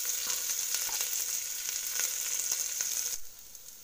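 Sliced onions with curry leaves fry in a pan, a loud, crackling sizzle with scattered pops that runs steadily, then drops off abruptly to a much quieter hiss near the end.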